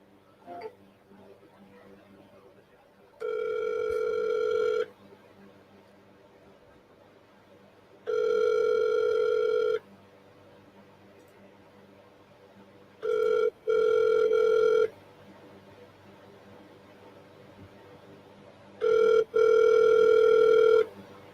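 Outgoing ringback tone on a phone call repeats four times, each steady buzzing ring lasting about a second and a half with long quiet gaps between, the last rings split into shorter bursts, against faint room background.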